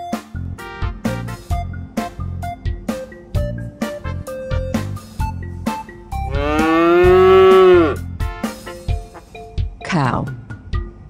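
A farm cow gives one long, loud, drawn-out moo over steady background music, followed by a short sliding tone.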